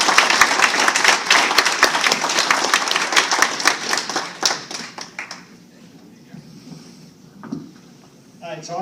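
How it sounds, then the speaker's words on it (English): Audience applause at a comic con awards ceremony, sharp individual claps close up for about five seconds before fading into quiet room noise and a few scattered sounds. "Mr. Gary Reed, please give a round of applause."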